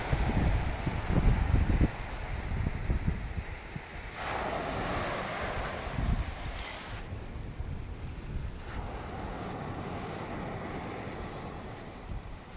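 Waves wash onto Kamari Beach on Santorini, a sand beach lined with a promenade, giving a continuous soft rushing surf with wind buffeting the microphone, a louder swell early on, then steady, moderately distant wash.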